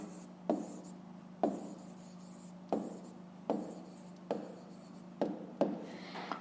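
Pen or pencil handwriting on paper while a math problem is written down, with quiet scratching strokes in a steady rhythm of about seven taps and scrapes, close up and alone.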